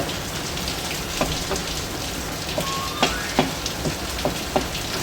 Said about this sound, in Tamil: ஸோ பூண்டு போட்டு நல்லா மிக்ஸ் பண்ணுங்கள்.